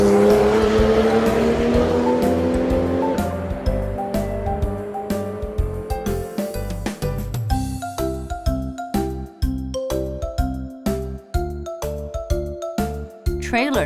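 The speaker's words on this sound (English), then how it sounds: "Race car." A race car revs and drives off with a tire squeal, the engine pitch climbing and falling early on, then a string of sharp repeated bursts and chirps through the rest, loud and close, with speech around it.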